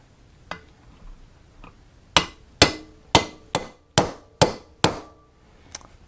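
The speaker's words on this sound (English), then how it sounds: "Let's give it a small tap with the socket." A socket is tapped against a stuck wheel bearing on a 1976 Honda Elsinore MR175 motorcycle: a couple of faint taps, then seven sharp, close metallic knocks in a steady rhythm, and one last light tap.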